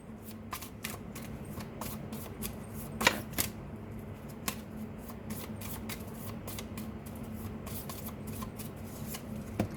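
Tarot cards are shuffled and drawn in a quiet room, with soft riffling and flicking card sounds scattered over about ten seconds, close but gentle, plus a couple of sharper slaps.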